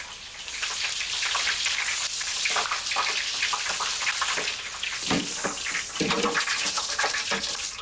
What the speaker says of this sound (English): The next stage is to fry the chips at 180 degrees Celsius.